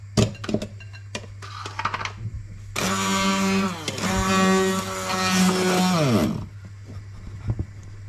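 An electric grinder whirs for a few seconds as it grinds ginger and garlic into spice paste for Eid cooking. The steady whine winds down at the end, with scattered kitchen knocks and clatter before and after.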